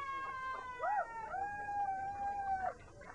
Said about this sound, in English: Another howl.